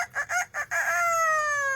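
A pet parrot mimics a rooster's crow: four quick, clipped syllables followed by a drawn-out tonal call, loud and close with no talking over it.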